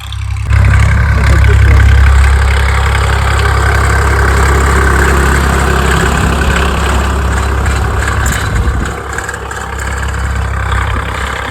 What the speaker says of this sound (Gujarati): અત્યારે ટ્રેક્ટર આવ્યો અને કામ ચાલુ કરી જોઈ શકો છો